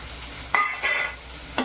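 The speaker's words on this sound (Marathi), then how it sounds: "आपल्याला कांदा हा बारीक कापून घेतलाय तो टाकून द्यायचा आहे कांदा आपल्याला व्यवस्थित शिजून द्यायचा आहे" Finely chopped onion goes into a hot pan for a green beans stir-fry, giving a soft, close hiss of frying with two brief bursts of stirring.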